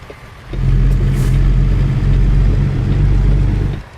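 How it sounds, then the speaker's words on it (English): A heavy truck engine in American Truck Simulator revs up and holds a loud, steady rumbling drone for about three seconds before cutting off, with no talking over it. "That engine does sound good, though"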